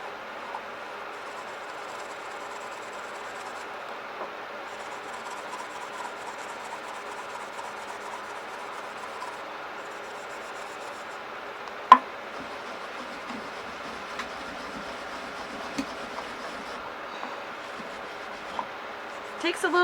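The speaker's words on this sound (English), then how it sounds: "Steel wool the entire thing," Steel wool scrubbed firmly over a plastic medicine bottle, a steady close-up rasping rub that runs unbroken, with a few sharp clicks and knocks near the end.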